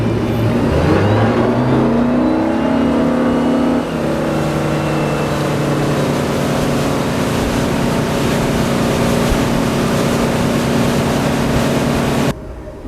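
An MB Sports B52 23-foot wakesurf boat's engine revs up as it takes off on the water, a loud close roar climbing in pitch and then holding a steady drone before cutting out.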